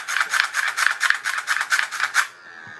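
A hand-wound clockwork generator built to light LEDs and charge a supercapacitor gives a fast, steady ratcheting whir of rapid repeated clicks for about two seconds, then drops to a faint fading hum as the rotor spins down.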